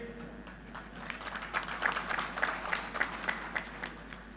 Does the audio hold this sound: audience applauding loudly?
yes